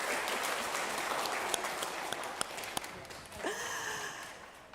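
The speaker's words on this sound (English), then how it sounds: "Give yourselves a round of applause." A church congregation applauds during a service, a dense patter of clapping that fades out toward the end, with a few scattered sharper claps and a brief voiced sound near the close.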